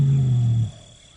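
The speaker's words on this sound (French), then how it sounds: "Ces rugissements indiquent sa présence aux femelles qui se trouvent sur son territoire" A Bengal tiger lets out a single deep, loud roar held for about two thirds of a second, close and alone, then cut off and fading into quiet surroundings.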